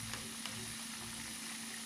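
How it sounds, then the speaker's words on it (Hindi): Chicken broast pieces fry in hot oil with a steady, quiet sizzle and faint crackles throughout, with no talking. "जो है ये इसको अच्छी तरह से फ्राई कर लेना है, 6 से 7 मिनट एक साइड पे"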